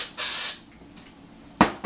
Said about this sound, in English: I'm going to take more of the dry texturizing spray, just really get it in there